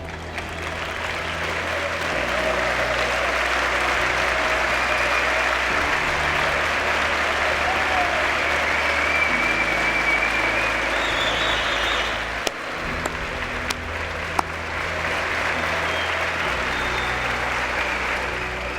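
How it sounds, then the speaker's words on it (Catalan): Large auditorium crowd of about 2,600 at a university engineering graduation applauding families, a steady broad wash of clapping sustained throughout with a low rumbling hum underneath and a few sharp clicks near the end. "us tombeu cap a les famílies i els dediqueu un fort aplaudiment"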